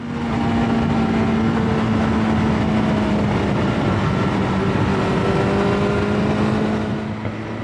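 Steady, loud engine drone of a motorcycle ridden at speed on the Isle of Man TT course near Ramsey, with a rising whine and continuous wind roar and no speech.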